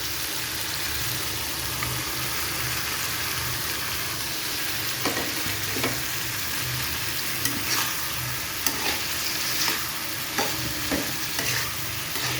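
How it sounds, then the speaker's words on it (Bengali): Shrimp fry in a hot pan, a steady close sizzle with a low rumbling undertone and occasional sharp scrapes and taps of a spatula as they are stirred. "শুকনো হওয়া পর্যন্ত ভেজে নেবে"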